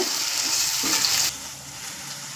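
Onion, green chilli and ginger-garlic paste fry in a pan as the base for a coconut-milk chicken curry, giving a loud, steady close sizzle that softens slightly partway through, with no talking.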